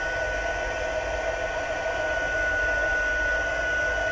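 A heat tool blows a steady, loud, continuous hot-air rush across a sheet of Stampin' Up vellum, holding an unbroken whoosh with no pauses.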